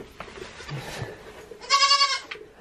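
A young goat gives a loud, wavering bleat near the end, after some quieter rustling and shuffling nearby.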